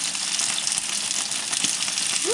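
Frozen chicken pieces sizzle in a skillet with a steady, close, hissing crackle and occasional faint stirring scrapes.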